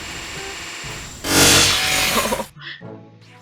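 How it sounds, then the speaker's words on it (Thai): A glass-shattering effect from the Roblox game All Star Tower Defense: a loud, bright crash lasting about a second over game sounds, then cutting off. "เสียงกระจกแตกดังมาก"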